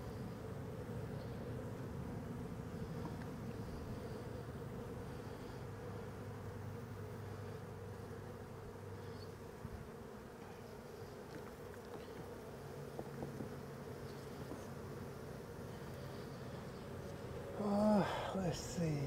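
Bees swarm around a hive built inside a car's wheel well, a steady close buzzing drone that runs throughout, with brief handling clatter near the end.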